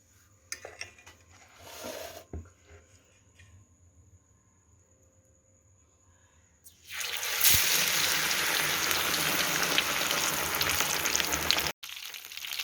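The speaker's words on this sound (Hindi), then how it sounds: "अब फिश को इसमें डिप करेंगे और फ्राई करेंगे" Fish pieces dipped in a spice batter are lowered into pre-heated oil for a Lahori-style fish fry, and a loud, steady broadband sizzle bursts up and holds. Quieter kitchen clatter and faint handling come before it.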